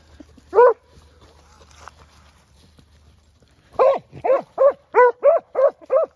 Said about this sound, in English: Two good dogs having it together.